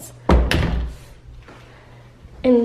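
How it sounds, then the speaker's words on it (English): Walk-in closet doors in an apartment close with a pair of loud wooden thuds in quick succession, followed by a quieter knock and a later bump. "And then these doors just close like that."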